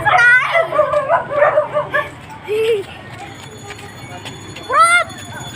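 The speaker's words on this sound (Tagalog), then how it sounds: "Sige, may aso." A dog barks and yips in short, sharp bursts near the start and again toward the end, while people talk nearby on an outdoor street.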